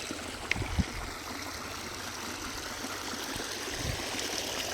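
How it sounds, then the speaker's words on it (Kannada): Lake water runs steadily through a farm channel into a field plot, a constant close rushing trickle with a couple of faint knocks near the start and no speech. "ನೀರು ಪಾಡಿಗೆ ನೀರು ಹೋಗ್ತೈತೆ ನೋಡ್ರಿ, ಹೆಂಗೆ ಹೋಗ್ತೈತೆ ನೀರು ಅಂತ. ಕೆರೆ ನೀರು ದೇವ್ರುಗಳೇ."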